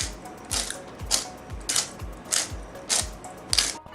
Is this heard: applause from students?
no